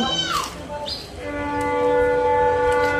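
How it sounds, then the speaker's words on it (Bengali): A train nears on a local railway line in Assam between Pancharatna and New Bongaigaon, sounding a long, steady horn blast after some brief higher tones, heard from a train waiting at a signal. "মনে হচ্ছে একটি ট্রেন আসছে"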